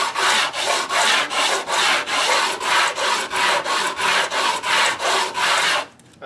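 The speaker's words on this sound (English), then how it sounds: "All I'm using is a scrap piece of wood and 60 grit sandpaper taped to it" Rhythmic hand sanding of wood with 60 grit sandpaper taped to a scrap block, about a dozen even rasping back-and-forth strokes close up, then a brief pause.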